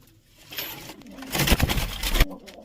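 Pigeons in a pigeon house full of eggs coo in low, pulsing bursts that swell loudly in the middle and then fade, with faint rustling between calls.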